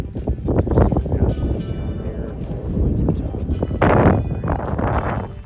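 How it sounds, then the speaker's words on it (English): Gusty wind near the Grand Canyon buffets the microphone in rough, rumbling bursts, strongest toward the end, with a voice talking partly under it. "This is pretty windy."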